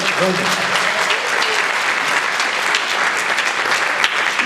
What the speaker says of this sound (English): Can we have a round of applause for Brendan?